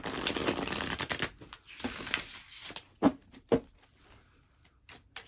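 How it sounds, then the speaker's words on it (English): Cards riffle in a quick fluttering bridge shuffle, followed by a few sharp taps and soft snaps as the deck is squared, close and quiet. "I'm going to give this a little bridge shuffle."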